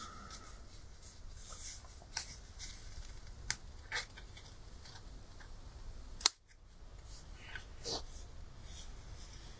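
Faint scissors snip paper while a card is trimmed, a handful of quiet crisp cuts spread irregularly, one louder clack near the middle, amid soft rustling and low room noise.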